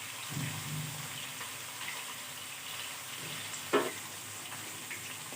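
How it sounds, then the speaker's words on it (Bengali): Masala spices sautéing in a pan for a lote fish curry give a steady, soft sizzle throughout, with a brief louder scrape or clatter partway through. "এখন মশলাটা কষিয়ে নেব"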